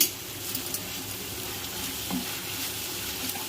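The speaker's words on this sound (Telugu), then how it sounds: "పోపు చూసారా బాగా ఏగిపోయింది" Chili powder added to a tempering of hot oil while frying for a tomato dal dish, giving a steady, close, continuous sizzle and crackle with light stirring, no voices.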